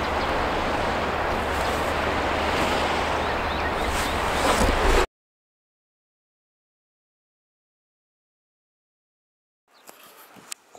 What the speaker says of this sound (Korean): 파도 소리도 들리고